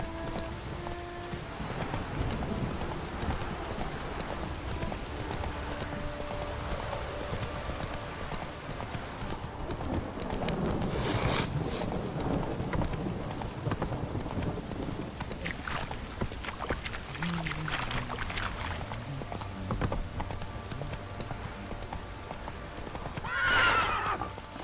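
In The Witcher 3 video game, a horse's hooves gallop in a steady rhythmic clip-clop, close and continuous, with occasional whinnies and snorts over faint ambient background.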